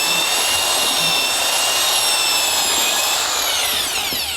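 A slow-speed drill mixer stirs cement mortar with a steady, loud motor whine and the gritty churn of the mix. The motor pitch shifts slightly as it slows near the end.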